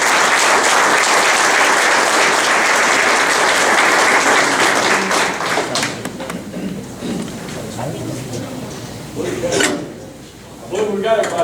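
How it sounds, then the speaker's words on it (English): Sustained applause from an audience at a high school athletics hall of fame reception honoring inductees; loud, dense clapping that gradually thins and fades, with a few voices and room sounds near the end. "Let's have about a nice round of applause for all our inductees."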